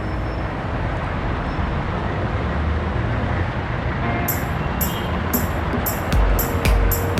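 Road traffic on the way into Jaro, Iloilo, makes a constant broadband roar of engines, heard from a moving motorbike, with a few sharp rattling clicks near the end.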